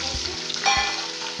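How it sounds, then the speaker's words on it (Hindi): Chicken frying in a pan with browned onion and garlic, a steady close hiss of sizzling with a few brief clanks of stirring scattered through it. "अच्छी तरह से आपने चिकन को इसमें फ्राई कर लेंगे।"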